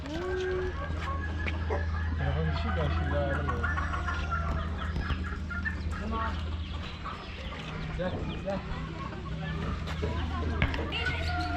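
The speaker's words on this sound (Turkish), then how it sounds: "Brahma tavuğu." Brahma hens clucking and fowl calling close by at a nature park, with a steady low hum and people talking in the background throughout.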